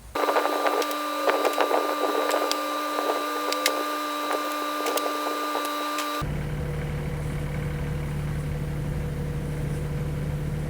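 Chunks of firewood clatter into an IBC tote in quick, irregular knocks over an idling Kioti CS2520 compact tractor, then the knocking stops and only the steady engine hum remains.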